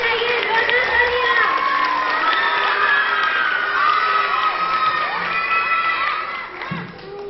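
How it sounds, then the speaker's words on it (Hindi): Loud applause and cheering from a large audience, with children shouting and whooping, at an Independence Day program at a teacher-training institute in Muzaffarpur, Bihar; steady crowd noise throughout that fades slightly near the end. "जोरदार तालियां।"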